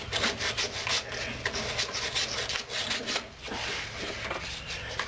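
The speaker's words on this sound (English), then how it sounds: "take this genuine Harbor Freight sandpaper here and kind of see if we can get this spindle cleaned up here" Steady scratchy rubbing of sandpaper on a push mower spindle, a continuous close rasping back-and-forth with no speech.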